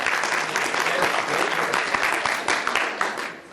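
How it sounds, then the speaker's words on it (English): An audience gives a final round of applause, dense steady clapping that stays loud and close before thinning out at the very end. "we're going to give her some final applause here"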